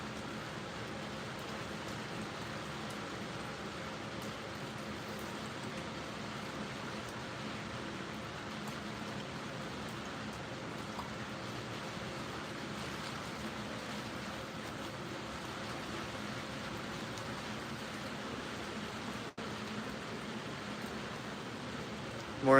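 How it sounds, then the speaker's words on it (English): Rain falling steadily on a shed roof on a morning when an outdoor wood boiler is being loaded, a continuous even hiss of drops with no breaks, heard from inside the shed. "right now, I'm standing in here in the rain and staying dry"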